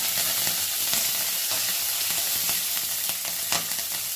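Curry leaves and green chillies frying in oil in a pan over low heat while cooking egg fried rice, giving a steady, close crackling sizzle with small pops throughout.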